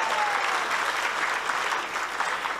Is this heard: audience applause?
yes